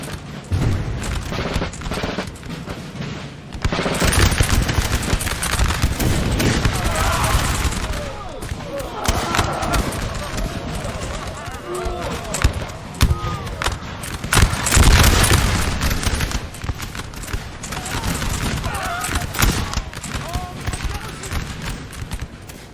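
Artillery volleys and battle noise in Napoleon: Total War during a French invasion of Russia battle, with dense booming and crackling musket fire, horse hooves, and a voice talking over the ongoing clamour.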